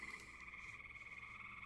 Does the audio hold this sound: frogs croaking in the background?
yes